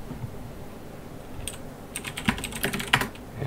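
Fingers type network switch configuration commands on a computer keyboard, tapping in light, irregular clicks that build into quicker bursts of close keystrokes.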